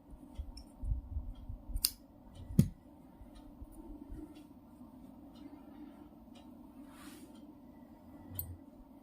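Scissors snip crochet wool yarn on a woollen dress in a few quiet, short clicks near the start, followed by faint room noise.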